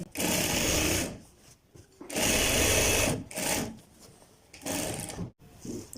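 A sewing machine stitches a seam on a child's trouser in several loud bursts. Each run lasts about a second, with short pauses in between, and faint talk can be heard in the gaps.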